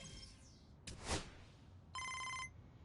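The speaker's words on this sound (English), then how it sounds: "There's the phone call." A phone rings briefly in MLB The Show 25, a single bright electronic trill cutting in over a faint game background after a short whoosh, standing alone with no talk.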